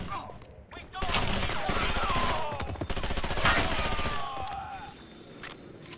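A shotgun fires in the video game Conduit 2, producing a dense, sustained run of booming shots over several seconds that is loud and close, then trails off to quieter sounds.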